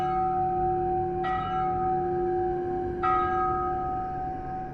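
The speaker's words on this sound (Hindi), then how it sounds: "घंटी की आवाज और एक खौफनाक हंसी।" A bell strikes twice, about two seconds apart, each ringing tone sustaining and slowly fading over a low background hum.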